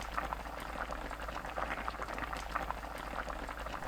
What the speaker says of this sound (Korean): 5분 후 뚜껑 닫고 중불로 8분 끓입니다.